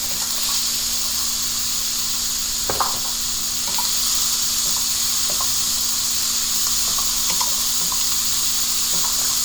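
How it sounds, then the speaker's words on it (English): Vegetables including carrot sauteing over a high flame for Chinese-style manchow soup, giving a steady close sizzle and hiss with an occasional soft stir or clatter, no talking. "Keep sauteing"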